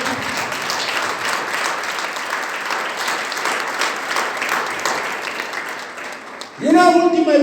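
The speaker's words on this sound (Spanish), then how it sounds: "Puede aplaudir eso con todo su corazón" Congregation at a church service claps steadily and fairly loudly, the dense applause tapering off before a voice begins speaking near the end.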